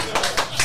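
A small live-show audience in a packed bar gives a few quick bursts of clapping, three brief rhythmic flurries close by, with some chatter underneath.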